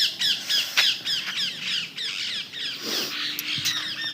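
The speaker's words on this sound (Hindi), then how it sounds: "वो हमारे छत के तोते हैं।" Parrots on a house roof squawk in rapid, shrill bursts, many birds calling together almost without pause, loud and close, with no talking.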